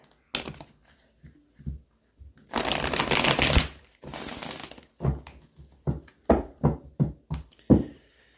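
A deck of playing cards being shuffled by hand during a tarot-style reading, with a long riffling burst in the middle followed by a series of sharp, separate card snaps and taps, close and fairly loud with no talking.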